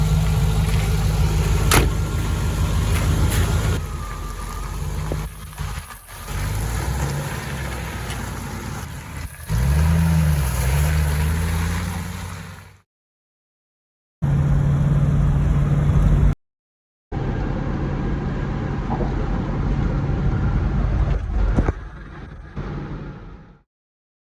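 A two-door Range Rover Classic undergoing restoration drives along, its engine and road noise droning steadily up close, with a revving pitch swell and a couple of abrupt cuts in the sound.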